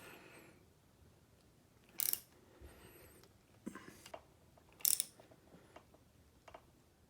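A wrench cross-tightens bolts during a Boyesen power reed install on a Yamaha PW50, giving quiet, sparse metallic clicks and ratcheting bursts, the two sharpest near two and five seconds.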